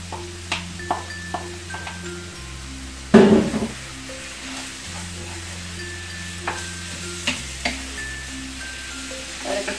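Mango added to chicken and piquillo pepper frying in a pan, a steady sizzle broken by a loud splash-and-hiss as the fruit drops in, followed by light stirring taps against the pan.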